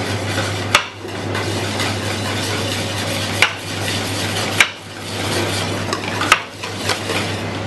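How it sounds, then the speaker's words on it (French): Spoon or whisk stirring pastry cream into a crème anglaise base in a bowl, a steady scraping swirl with several sharp clinks against the bowl at intervals, close and alone. "On va y ajouter donc la crème pâtissière, va incorporer donc à la crème anglaise."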